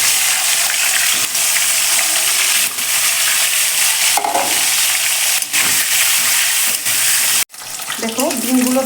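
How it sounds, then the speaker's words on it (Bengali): Duck eggs fry loudly in hot oil in a pan, a dense continuous sizzle with occasional stirring scrapes and a brief break near the end before the crackling resumes. "আর ডিমগুলো ছেড়ে দেবো ভাজা করে"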